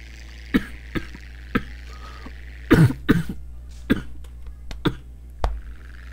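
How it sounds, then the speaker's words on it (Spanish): A person coughs in a choppy, irregular fit of sharp bursts spread over several seconds, with a few throat-clearing catches between them, close and fairly loud over a steady low hum from the background of a PC game session. "me atoré por la tos."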